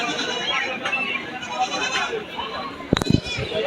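Goats at a rural village goat market give a few short bleats near the end, rising over a steady crowd murmur and outdoor background chatter.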